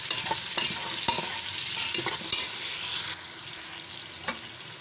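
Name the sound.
tomatoes and green chilies frying with browned onions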